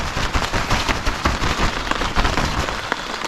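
Rain falls on a tent during a wet camping stop on a summer trip through Latvia and Estonia. The drumming is loud and dense, with close drops pattering on the fabric in an uneven, rapid rhythm.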